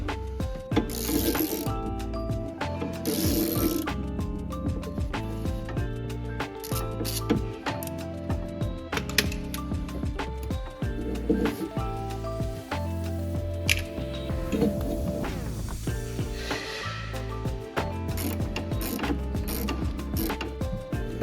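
A ratchet works loose a bolt on the charge pipe of a 2020 Mercedes A45s, giving a dense run of rapid metallic clicks that continues steadily and fairly quietly throughout.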